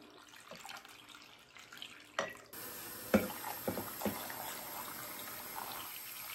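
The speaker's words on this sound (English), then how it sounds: "going to go ahead and add water to each turkey" Tap water running into a turkey insert for food storage, a soft steady stream with a few louder splashes and clunks, fairly faint and close with no talk.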